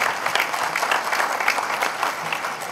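An audience applauds a performer after a formal tribute, a dense, steady wash of many hands clapping at moderate volume with no voices over it.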